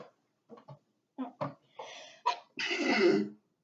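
A single sharp sneeze bursts out near the end, after a few quieter breaths or throat sounds, close to the microphone.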